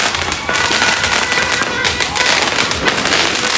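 New Year fireworks and firecrackers pop and crackle densely and continuously all around, a loud unbroken barrage with faint voices underneath.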